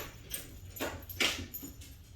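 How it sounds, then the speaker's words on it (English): A dog climbing stairs, its neck chain clanking against the steps in a series of four or five quick metallic jangles, moderately close over a low background hum. "That was the dog going up the stairs, by the way."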